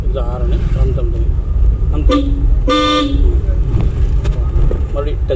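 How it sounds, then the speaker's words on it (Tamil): A car horn gives one short, loud honk during a driving lesson, rising over the running car and people talking inside. "ஹார்ன் அடிச்சுட்டு இந்த ஹாரனு அமுத்தம்"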